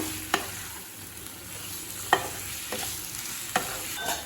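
Prawns frying in a pan give a steady close sizzle, broken by a few sharp scraping knocks from a spatula being stirred through them.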